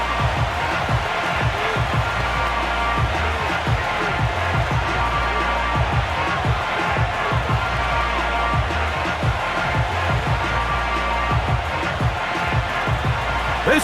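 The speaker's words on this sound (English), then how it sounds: "This crowd into it now as we get to 3rd down" In a Madden 25 simulation of the Jets facing the Giants, a stadium crowd keeps up a constant roar and cheer under lively play-by-play commentary.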